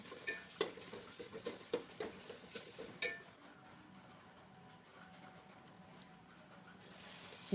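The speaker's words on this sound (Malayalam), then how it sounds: "രണ്ട് സബോള അരിഞ്ഞത് ചെറുതായിട്ട് അരിഞ്ഞത് ഇട്ട് വഴറ്റുവാണ്" Chopped onions sautéing in a pan for a chicken majboos dish, with sharp spoon scrapes and clatters over the first three seconds, then a steady soft sizzle continuing alone.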